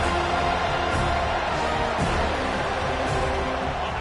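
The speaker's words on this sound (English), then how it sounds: "how nice is it to have the home crowd going absolutely bananas?" Home crowd at a football game against Clemson, a constant loud wash of stadium roar and cheering that holds steady throughout.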